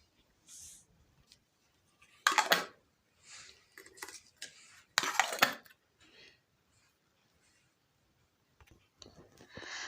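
Jars of barrel-style pickled cucumbers are closed with lids, giving a series of metallic clicks, scrapes and clinks in bursts, close by in a quiet kitchen.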